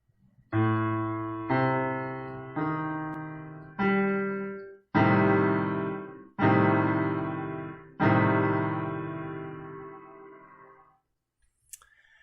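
A piano half-diminished seventh chord struck repeatedly, seven separate hits, each ringing and decaying before the next, played alone and fairly soft.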